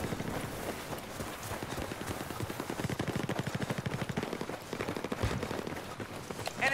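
Rapid, sustained automatic machine-gun fire in the Battlefield 4 video game, a dense rhythmic stream of bursts at moderate level with battle ambience and no clear talk.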